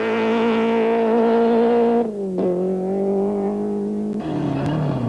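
A Class B Opel Kadett rally car, burning oil, drives hard on a rally stage, its loud engine holding a steady drone, dropping through a gear change, then rising again, close and with no voices.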